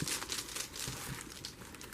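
Crinkling and rustling of a plastic bubble mailer envelope being handled close up, with a steady, fairly quiet crumpling texture throughout and no voices.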